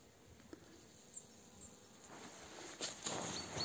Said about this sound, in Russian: Вот пчелки уже пытаются частично облетаться.